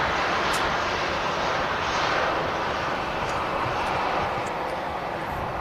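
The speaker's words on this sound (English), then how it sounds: "just arriving here at Manchester. We got the Sun Express service from Dalaman." A SunExpress Boeing 737-800 arriving at Manchester Airport from Dalaman gives a steady, loud broadband jet roar that stays constant throughout, with no voices over it.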